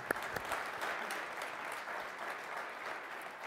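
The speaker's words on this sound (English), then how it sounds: "how about a great round of applause for this panel" Audience at a restaurant leadership conference applauds a panel, a soft, distant, even patter of clapping that holds steady throughout.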